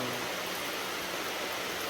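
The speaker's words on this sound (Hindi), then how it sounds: "और पीछे आगे तरफ बारिश लगी" Steady rain falls at night outside a house while someone shelters under a concrete overhang, a dense continuous hiss with no breaks and no voices.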